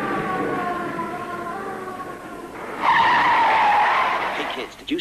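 Car tyres skid on an icy road, first a droning rubbery whine, then a sudden loud, high screech that holds for a couple of seconds before fading.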